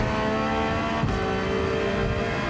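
A Porsche engine revs and pulls hard under acceleration, loud and close, with a sustained tone that shifts pitch once partway through.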